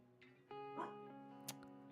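A pet dog barks a few times indoors, short yips close by against a quiet room with a steady background hum.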